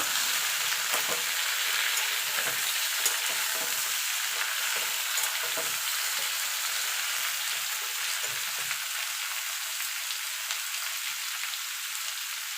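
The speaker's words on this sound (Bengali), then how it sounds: "ঝিঙেটা আর আলুটা একসঙ্গে" Ridge gourd and potatoes fry with a constant close sizzle while a utensil stirs and scrapes them repeatedly, the stirring easing off toward the end.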